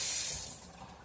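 Water gushes from a kitchen tap to rinse something off while making pizza dough, a close, steady hissing spray that softens toward the end, with no talking.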